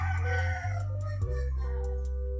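A rooster crows once in a single loud, sustained call with a strong, ringing tone that holds steady for about two seconds, with no voices present.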